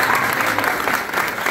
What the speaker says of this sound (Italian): preparatevi con l'applauso